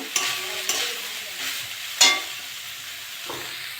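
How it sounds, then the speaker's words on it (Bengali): Banana stem (thor) with prawns frying in a pan, a steady close sizzle broken by a few sharp scraping stir strokes, no voices. "ভালো করে ভেজে নেব।"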